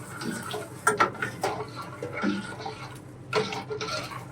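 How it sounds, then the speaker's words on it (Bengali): Sugar is stirred into a spicy tomato Bolognese sauce in a pan, giving soft scrapes and light clinks of the spoon against the metal in irregular bursts, close by and with no speech. "নেড়ে দিবেন।"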